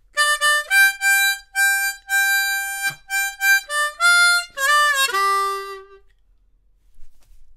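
Blues harmonica in a C-harp lesson plays a song's vocal line, a series of bending, wailing sustained notes in short phrases, loud and alone, trailing off into quiet.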